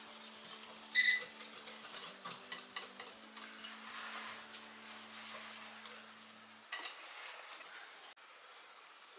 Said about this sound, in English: Okay, so I stirred it